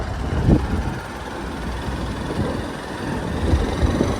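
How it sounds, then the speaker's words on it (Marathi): A vehicle rumbling up from behind on a highway, a loud low roar that swells and fades with wind buffeting the microphone. "मागे गाडी आलेली आहे"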